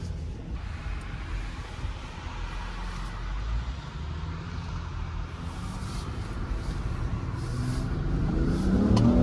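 A new Range Rover Sport SUV accelerates hard, a steady broad engine roar that builds in loudness toward the end, heard from inside the cabin with no talk.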